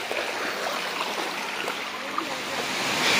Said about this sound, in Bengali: এই মুহূর্তে আসলে ঝর্ণার পানির যে একটা শব্দ, এইটা কিন্তু আমরা খুব শুনতে পাচ্ছি।